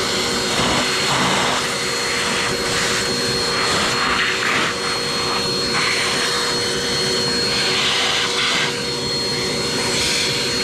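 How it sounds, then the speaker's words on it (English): Vacuum cleaner sucking up dirt from an Aprilia Tuono motorcycle during throttle body work: a loud, continuous close roar and whine with slight fluctuations as the nozzle moves, no talking. "I'm going to spend a second vacuum up some more of the dirt here."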